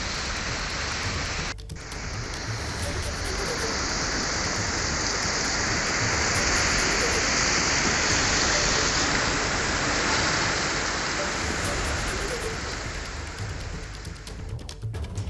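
Heavy monsoon rain pours down steadily in Uttarakhand, India, a dense, loud hiss of water on surfaces that lasts throughout without pause and with no voices.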